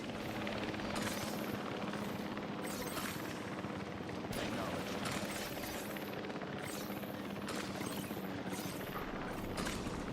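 Helicopter in the Jurassic World Evolution 3 park-building game, a steady rotor drone with faint periodic chopping under game ambience and speech-like voice.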